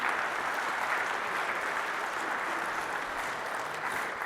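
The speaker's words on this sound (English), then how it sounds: "Applause to Dirk for taking us through this." An audience at a tech presentation claps in a dense, even burst of applause that lasts the whole stretch, no talk over it.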